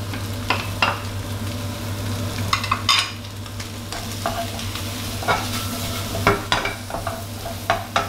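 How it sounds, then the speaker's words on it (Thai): Shrimp stir-frying with curry powder and onion, a loud close sizzle punctuated by repeated sharp spatula scrapes and clanks against the pan in an irregular rhythm, with no voices. "ผัดคลุกเคล้าให้เข้ากันเลยครับ"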